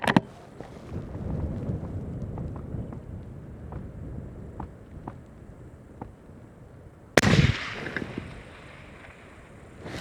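A hunting rifle fires once at an outdoor shooting range, a sharp, loud report followed by a brief booming decay, after several seconds of wind noise and faint ticks.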